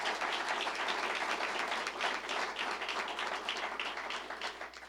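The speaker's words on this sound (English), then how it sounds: "Let's give her a round of applause as well." A university welcome event audience claps steadily for a new athletic director, a dense, even roar of many hands that lasts the full few seconds with no talking.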